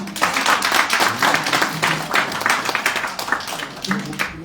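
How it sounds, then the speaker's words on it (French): Audience applause at a youth and children's church service greets Wilma: lively, slightly uneven clapping from a modest crowd, fairly close and loud, with voices mixed in among the claps. "sur vos applaudissements, Wilma"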